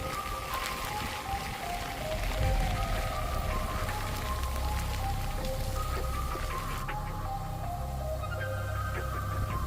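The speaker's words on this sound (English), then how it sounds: "strong winds and torrential rain swept across southern Louisiana" Torrential storm rain pours down steadily in a dense, loud wash over a deep rumbling layer, continuous for the full stretch with no voices, as a storm sweeps across southern Louisiana.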